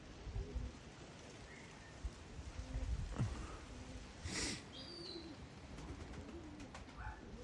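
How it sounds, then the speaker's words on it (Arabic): Pigeons coo faintly in a quiet outdoor spot, with soft, rounded calls rising over a low background hiss and a few light rustles. "عندنا طيور تطير الحمد لله."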